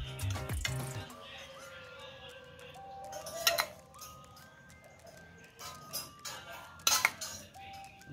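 Metal utensils tossing and stirring a seaweed salad in a bowl, with scattered light clinks and soft scrapes at an irregular pace. Faint steady tones sit in the background.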